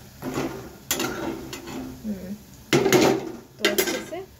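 Lauki kofta being turned over in a frying pan, with short clinks and scrapes of utensil against pan in bursts, alongside a soft sizzle.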